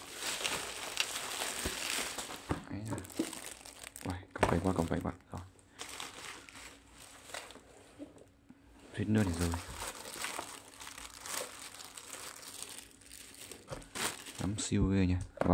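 Close, irregular crinkling and crunching of plastic wrap as a white full-size E-YOOSO E-30 2.4G wireless keyboard is unboxed, with sharper tearing bursts and a person talking at intervals.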